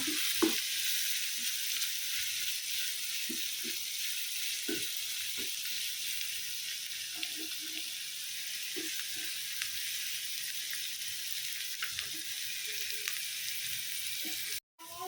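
Mustard seeds, dried chili, curry leaves, ginger, garlic and green chilies sautéing in hot oil for a soya chunks curry, giving a steady close sizzle with scattered soft pops and stirring ticks, no voices.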